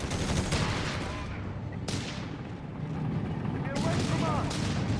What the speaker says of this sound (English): Flammenpanzer getting caught by the 2-pounders in return.